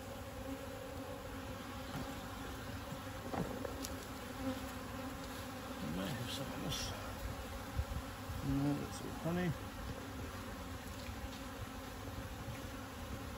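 Honey bees hum around an open hive during a brood check, a continuous close buzz with a few louder passes as individual bees fly near, and a voice speaks over it now and then.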